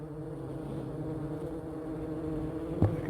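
Bees buzzing around a swarm being caught in a five-gallon bucket along with some comb, a steady close droning hum with a brief bump near the end.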